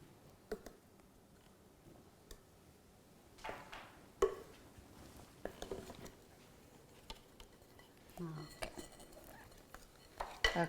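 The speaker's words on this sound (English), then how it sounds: "this is our flour, so we're just gonna mix it" Flour being mixed in a bowl for bread, with intermittent scraping, knocking and clattering strokes at an irregular pace over a quiet background.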